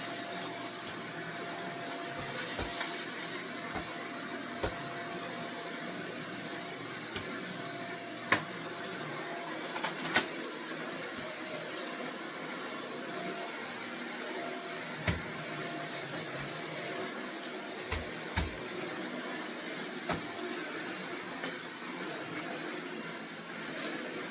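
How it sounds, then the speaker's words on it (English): A vacuum cleaner runs continuously with a steady whooshing drone, broken by a few faint clicks and knocks. "I'm going to vacuum. I'll just vacuum it."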